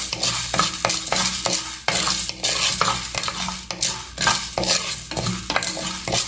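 Fenugreek seeds roast in a little sesame oil while a spoon keeps stirring them against the pan. Rhythmic scraping clinks repeat over a soft, steady sizzle, close and fairly loud, with no one speaking.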